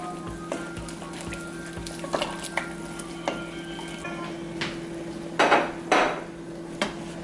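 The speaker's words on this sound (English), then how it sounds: "I'm just gonna stir it because eggplants take a little bit longer to cook" Eggplants are stirred in a cooking pot, with faint, scattered scrapes and clinks of a utensil against the pot over a soft, steady background hum.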